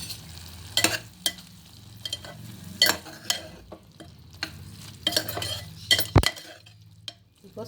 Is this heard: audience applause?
no